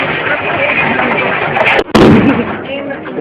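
9mm handgun fired at a shooting range, a sharp loud shot standing out midway over a busy background of voices and range noise.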